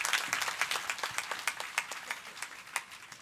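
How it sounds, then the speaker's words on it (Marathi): Audience applause after a devotional kirtan performance in a hall, steady dense clapping from a crowd, moderately quiet and continuous for a few seconds with no talk. "आपण सर्वांनी टाळ्या वाजवून महाराजांचं या ठिकाणी अभिनंदन केलं पाहिजे."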